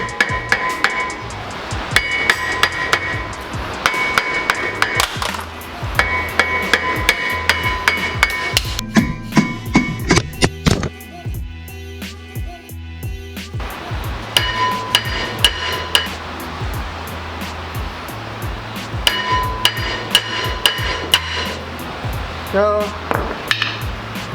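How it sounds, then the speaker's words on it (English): A sledgehammer taps an old brake rotor on a 350Z / G35 rear brake in loud, ringing metallic strikes, coming in quick bursts with brief pauses between them. "my sledgehammer, since I'm not going to reuse this rotor, and I'm just going to tap"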